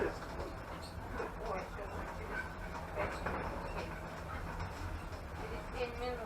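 A passenger train rolls along the Ozherelye–Bogatishchevo–Uzunovo railway line, heard from inside the carriage as a steady low rumble with faint clickety-clack of the wheels, quiet and continuous under muffled background voices.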